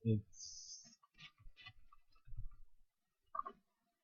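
Keys clack on a computer keyboard as a git command is typed, a quick burst of close clicks with a voice speaking around them.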